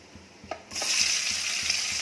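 Sliced onions hit hot oil with cloves, cinnamon, black cardamom, cumin and bay leaf for potato pulao, bursting into a sudden broad sizzle after a few soft stirring taps and then frying steadily, close by.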